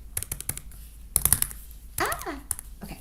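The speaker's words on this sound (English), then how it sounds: "And I just like typing." Short runs of computer keyboard typing, crisp close key clicks in small clusters, mixed with someone talking between them.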